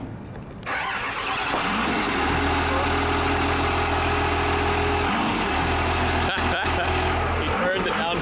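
Cummins diesel engine fitted in a Barracuda car cranks and fires up, then settles into a loud, deep, steady idle with a pronounced low rumble close by, while people talk over it.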